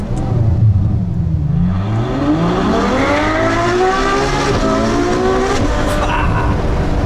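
A Ferrari F12 Berlinetta's 740-horsepower V12 revs up from inside the car, its engine note climbing steadily in pitch through the gears, loud and close, with a brief lift and renewed rise near the end.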